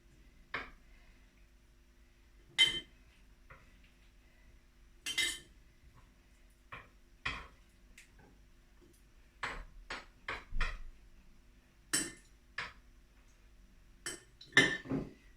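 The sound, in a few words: chopped lemon and orange being put into a jar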